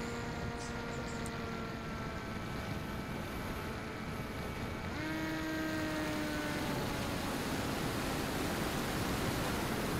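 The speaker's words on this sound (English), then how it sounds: "I can notice a fair bit of throttle fluctuation in the return to home mode" Electric motor of a Cyclops Tornado RC plane flying home in return-to-home mode, a steady airy whine with tonal harmonics that shift in pitch midway as the throttle fluctuates, heard amid broad wind-like noise.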